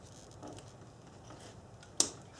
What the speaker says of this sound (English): Now when you reinstall or install brand new ignition wires, make sure you hear a clicking sound